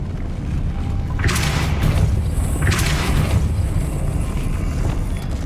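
A Depulso spell cast in the video game Hogwarts Legacy: two bright whooshing bursts with a low boom land about a second apart, each ringing for roughly a second over a steady rumbling game ambience, close and loud, with no one talking.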